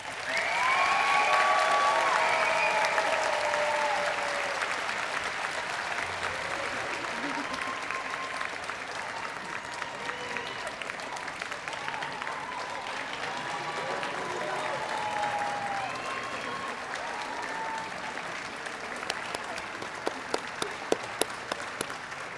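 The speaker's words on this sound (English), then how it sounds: "Ladies and gentlemen, ovation to the class of 2024." An audience in a ceremony hall gives a long, sustained ovation to the Penn Dental Medicine class of 2024, with loud, even clapping and scattered cheering voices throughout.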